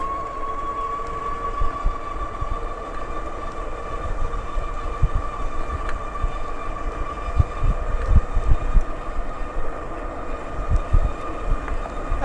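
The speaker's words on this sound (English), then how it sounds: "The motor on this bike is actually pretty loud, so you get the sensation like that you're just taking off" An ENGWE L20 2.0 52-volt e-bike accelerates, its motor giving a steady whine under continuous road and wind rumble, close and moderately loud throughout.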